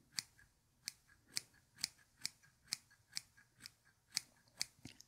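Scissors snip real hair during a close, quiet haircut, about a dozen crisp, evenly spaced metallic cuts with a soft background hush and no talking.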